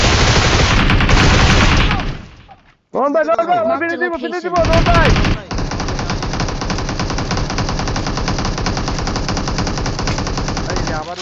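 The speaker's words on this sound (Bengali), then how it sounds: "গুলি করো গাড়ির পিছে গুলি করো" Rapid automatic M4 rifle fire in PUBG Mobile rattles loudly in sustained bursts, broken by a brief pause and a short exchange of voices, then continuing as a steady stream of shots under talk.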